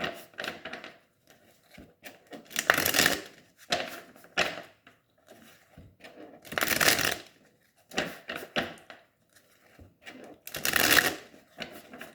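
Oracle cards being shuffled and cut by hand, with repeated riffling bursts and softer slides and taps throughout, close and steady.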